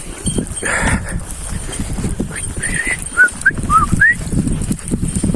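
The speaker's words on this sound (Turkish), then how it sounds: "Oradan köpekler avlıyor." Hunting dogs facing a bear yelp and whine in short, high, rising cries a few seconds apart, somewhat distant, over rough outdoor noise and thumping footsteps on muddy ground.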